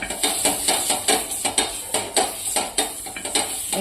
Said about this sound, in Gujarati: હવે આપણે આ બટર મૂકીશું બટર આ રીતે આપણે ફેરવી દઈશું